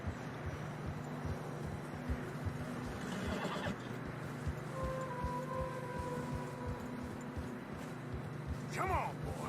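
Horses in Red Dead Redemption 2 whinny and hooves clop steadily along through snow, with a low engine-like hum and faint voices in the background.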